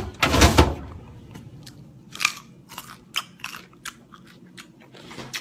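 Loud close crunch of a bite into a raw carrot, followed by a series of softer crunchy chewing sounds at an irregular pace.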